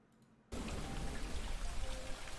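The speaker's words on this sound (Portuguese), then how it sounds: "Forgot to mention, the tank has rain." Steady, dense patter of simulated rain falls inside a home aquarium ecosystem tank, starting abruptly after a brief quiet moment and continuing as a loud, even downpour.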